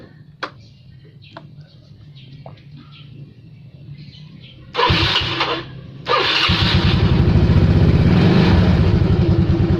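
Yamaha Mio Sporty scooter engine cranks after a few quiet clicks, then the small engine revs up loudly, dips briefly and settles into a steady, close, buzzing high idle.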